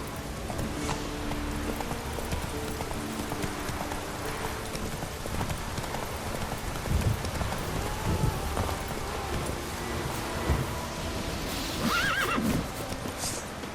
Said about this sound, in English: Slower. Not so fast, Roach.